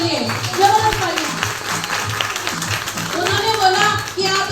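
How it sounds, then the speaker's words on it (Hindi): At a cheque celebration function in Roorkee, scattered clapping and tapping from the audience sound under ongoing voices, moderately loud and uneven rather than a full ovation. "एक बार तालियां होनी चाहिए मैडम वंशिका जी, हिंदू मैम और रवि सर के लिए, जबरदस्त तालियां"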